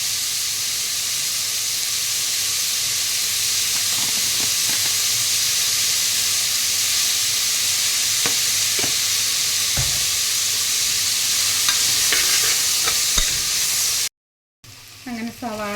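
Sliced onions sizzling and frying in a hot pan with salt added, a steady loud hiss broken by the scrape and clack of a spoon stirring, ending with a brief cut.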